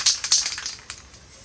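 A spray paint can hisses onto a mirror in a few short, close bursts that start strongly and then fade to lighter puffs.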